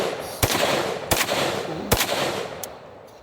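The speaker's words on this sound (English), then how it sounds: "we're gonna hit it with one more rifle. This is my H-Car 30-06." Three loud, sharp rifle shots from a 30-06 firing full metal jacket rounds outdoors at a transformer target, evenly spaced under a second apart, followed by a fainter distant crack.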